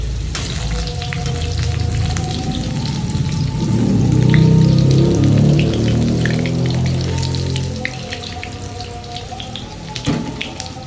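Thick tofu frying in a pan of hot oil, a steady crackling sizzle that swells in the middle and eases toward the end, close and alone with no talking.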